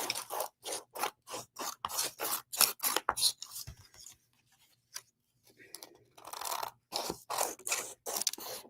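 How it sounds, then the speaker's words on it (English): Scissors trimming plain paper for a handmade bee-themed gratitude journal, a close run of rhythmic crisp snips that pauses briefly, then resumes with more steady cuts. "So now I'm just going to trim this off"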